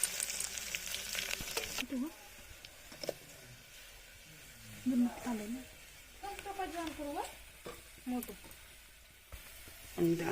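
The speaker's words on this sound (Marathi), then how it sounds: "लसणाची पेस्ट मस्तपैकी फ्राय करून घेऊ" Garlic paste fries in a pan for a village-style river fish curry, a soft continuous sizzle with occasional stirring scrapes, heard faintly alongside intermittent speech.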